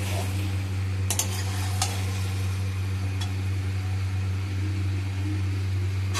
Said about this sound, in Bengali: আমি গ্যাসটাকে মিডিয়ামে দিয়ে ভালো করে আস্তে আস্তে করে কষাচ্ছি